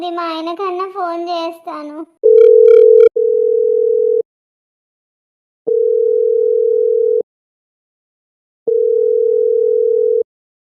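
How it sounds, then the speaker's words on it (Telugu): A cartoon telephone rings for an incoming call with steady electronic tone bursts, one long ring followed by two more separated by silent gaps, right after a voice speaks at the start. "ఏంటో నా పెళ్ళాము ఫోన్ చేస్తుంది"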